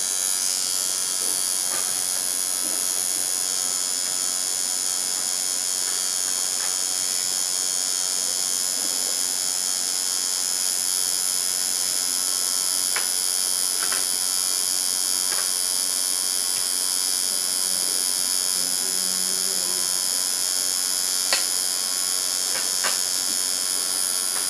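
A single needle tattoo machine buzzes steadily and continuously at close range, a thin high electric whine with faint clicks, and no voices are heard.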